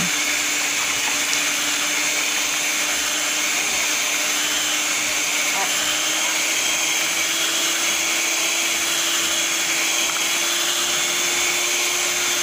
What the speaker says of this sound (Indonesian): Setelah itu, bahan-bahan ini kita mixer dengan kecepatan yang maksimal.